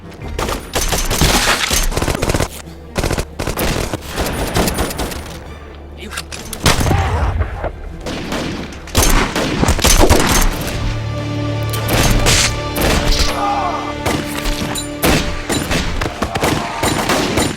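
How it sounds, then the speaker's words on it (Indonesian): Gunfire in a film shootout: loud, dense bursts of rapid shots and booms, some overlapping in volleys, broken by brief pauses and mixed with shouting and score. "Bahkan Josh Fung sendiri ikut menyerang menggunakan senapan dari jarak yang sangat aman."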